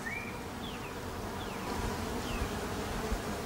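Honey bees buzz steadily throughout while a beehive is removed from a palm tree, with several closer bees passing by in brief whines over a constant swarm hum.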